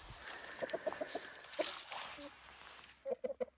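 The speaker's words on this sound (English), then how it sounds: "I'm going to give the chickens some grains to feed on." Chickens on a mountain homestead in Portugal cluck softly nearby in short bursts while being fed grain, a few quick clucks early and another cluster at the end, against quiet rustling.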